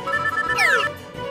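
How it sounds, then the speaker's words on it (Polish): A phone rings with a short electronic ringtone, a bright rising melodic chirp in a cartoon scene, heard once over quiet background sound. "O nie, kolejny telefon."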